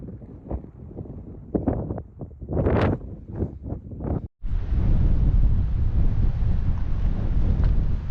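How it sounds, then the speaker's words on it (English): Strong wind at the summit of Guadalupe Peak in Texas buffets the microphone, first in choppy gusts and then as a loud, continuous roar. "it's windy up here"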